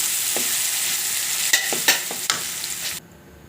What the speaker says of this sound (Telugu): ఈ పచ్చడి వేసిన తర్వాత ఒక్క రెండు నిమిషాలు బాగా అగ్గనివ్వండి ఆయిల్లో